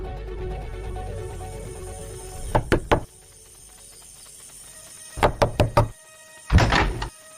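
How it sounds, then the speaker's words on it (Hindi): Knocking on a house door at night as an audio drama effect: three quick raps, then a pause, then four raps and a final heavier pair, close and sharp against a quiet background. "अब बाकी था तो बस रूबी के घर का दरवाजा खटखटाना"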